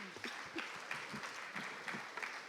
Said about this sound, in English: I can see that the loudest applause is coming from the First Lady.